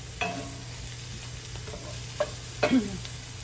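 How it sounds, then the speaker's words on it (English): Mushrooms stirred in a pan over heat, a quiet steady sizzle with a few scraping stirs and light utensil clicks, close and alone without talk. "Just trying to heat those mushrooms through"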